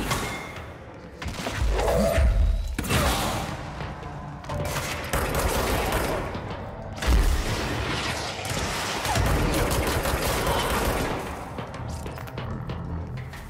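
Hip-fire gunshots in the Control video game, dense rapid volleys of loud close shots with heavy thumping impacts, near-continuous with brief lulls, and debris shattering between bursts.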